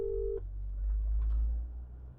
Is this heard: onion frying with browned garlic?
no